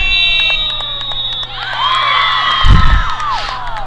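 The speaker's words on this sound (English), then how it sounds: "the buzzer was off before it even touched her stick" A steady electronic end-of-game buzzer sounds at a girls varsity lacrosse match, then gives way to a crowd cheering and shouting, with a brief thump as the noise swells.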